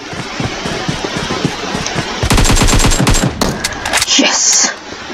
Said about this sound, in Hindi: मुझे फायरिंग की आवाज आ रही